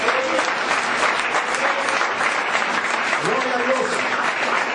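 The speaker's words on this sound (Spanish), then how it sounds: "Vamos a brindarle un fuerte aplauso a Jesús." Church congregation applauding steadily throughout, a dense sustained wash of clapping with voices calling out over it.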